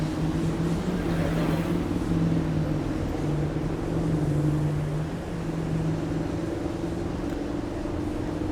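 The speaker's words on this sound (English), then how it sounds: "Both sides of the bridge there's car traffic." Steady road noise of car traffic on both sides of the Brooklyn Bridge, heard from the bike lane as a continuous low engine and tire drone with a droning hum, no talking.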